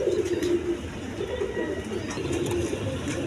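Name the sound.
pigeon cooing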